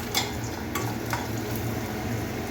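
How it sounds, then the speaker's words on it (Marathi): A quarter spoon of asafoetida is mixed into spinach frying in a pan, making a soft, continuous sizzle with a few light spoon clinks and scrapes as it is stirred. "हिंगही चांगला मिक्स करून घेऊया."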